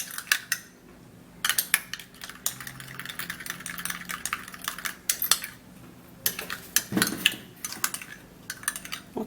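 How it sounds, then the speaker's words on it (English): A Vaseline and egg mixture is stirred in a bowl, quick clicking taps and scrapes of the utensil against the sides coming in busy bursts with brief pauses between them. "I'm going to be stirring it and mixing it up together"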